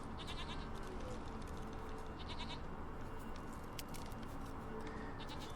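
Goat bleating in The Witcher 3 video game, a few short nasal bleats rising over a steady wash of ambient background noise, with no voices during the calls.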